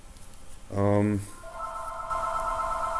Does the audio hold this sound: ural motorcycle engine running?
no